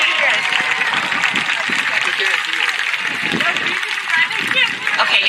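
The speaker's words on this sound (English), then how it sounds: "I want you to tell them thank you by a round of applause" Graduates of the class of 2021 turn to applaud their families, a sustained, dense wash of clapping mixed with crowd murmur that stays steady for several seconds.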